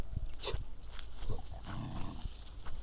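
Dogs fighting outdoors, with short growls, snarls and scuffling bursts scattered irregularly across a noisy background, moderately close, without any talking.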